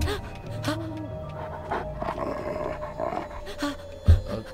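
A dog in a Lego Harry Potter video game growls and pants with a few rough barks, ending in a sharp thump, heard over low game background sounds.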